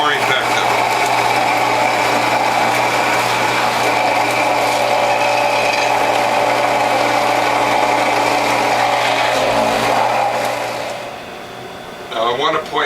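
A WHF premium juicer motor grinds loudly and steadily through beets, radish and greens, a constant strained hum with faint voice-like sounds beneath, easing off near the end.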